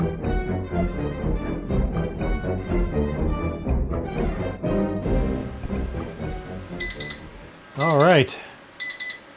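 A timer alarm beeps at the end of a load test on a BLUETTI Elite 100 V2 power station, a few short electronic bursts following a voice.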